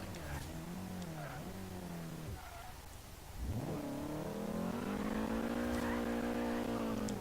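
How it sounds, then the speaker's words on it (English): A Nissan 240SX drifting in Forza Horizon 3, its engine note rising and falling through shifts, then holding a loud, sustained high rev with tire noise while a voice talks over it. "That was a pretty solid drift."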